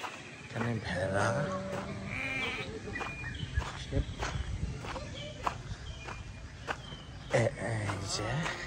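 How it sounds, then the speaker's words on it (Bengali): Sheep bleat several times in a zoo enclosure, the calls wavering and fairly close, with soft shuffling footsteps and faint voices in the background. "এখানে ভেড়া"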